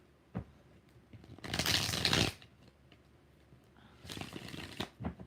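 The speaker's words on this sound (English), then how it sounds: "5 shuffles." Tarot cards are riffled in two separate bursts, close by, with a quiet gap and a few light taps between them.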